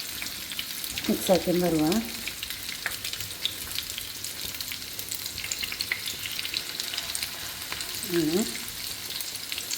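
Snack batter frying in oil on a flat pan on a gas stove, giving a steady close sizzle throughout while someone talks briefly.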